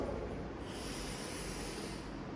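A person breathes in and out close by, a soft airy hiss of breath rising and falling with no talking.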